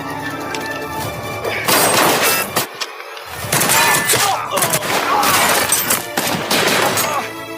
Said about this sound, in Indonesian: Kematian Aslam diakhiri dengan 2 tembakan dan 1 pengambilan gambar untuk dijadikan barang bukti